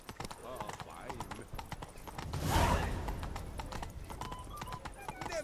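Steady hoof clip-clop from Roach, the horse in the video game Witcher 3, plods along with a brief swell of noise midway, while a voice talks over the hooves.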